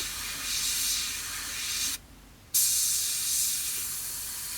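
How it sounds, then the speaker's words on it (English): Steady airbrush hiss of paint spraying onto a Harrier GR3 model kit, broken by a brief half-second pause before the spray resumes at the same level. "and then we're back spraying straight up to it again."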